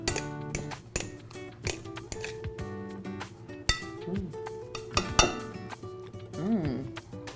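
Clinking of a spoon against a dish while pesto is stirred into mashed food, a run of sharp close taps and scrapes with bright ringing tones and a few brief vocal sounds in between.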